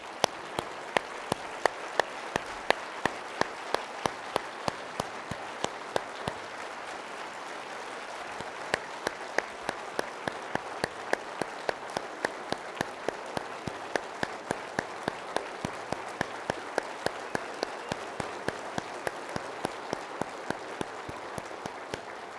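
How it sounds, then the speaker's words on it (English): Audience applause at the 2019 State of MARTA event, a standing ovation of steady, dense clapping that carries on without a break for the whole stretch, with occasional sharp individual claps standing out above the crowd. "Let's stand up and let's give them an applause."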